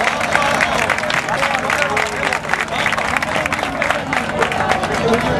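Audience at a romería festival in Campanillas applauding, a dense continuous burst of many hands clapping with crowd babble mixed in, loud and steady throughout.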